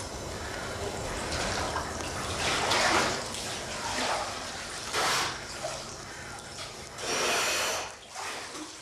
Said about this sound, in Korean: 마음을 가다듬고 얼음물에 잠시 들어갔다 나오는 얼음 목욕이었습니다.